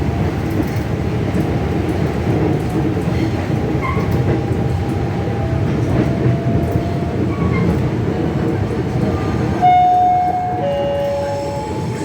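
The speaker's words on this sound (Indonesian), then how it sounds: "Pergerakan kereta dari Jakarta Kota menuju ke Jayakarta." A former Japanese KRL electric commuter train running between Jakarta Kota and Jayakarta, heard from inside as a steady rumble of wheels and motors, with faint whining tones near the end.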